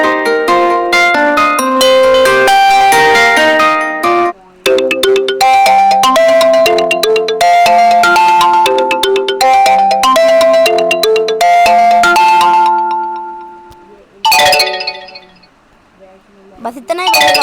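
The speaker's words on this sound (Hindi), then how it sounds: "आप देख सकते हैं अच्छी रिंगटोन्स हैं यहाँ पर।" Several mobile phone ringtones on a Mi phone play one after another, bright melodic chimes and tones sounding loud and close, with short gaps as each tune switches and a final jingle fading out.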